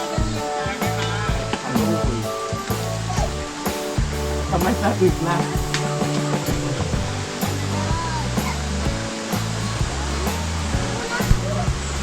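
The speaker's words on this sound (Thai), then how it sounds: "โอ้น้ำตกน้ำตก" Rushing water from a nearby waterfall forms a steady broadband roar beneath several people chatting.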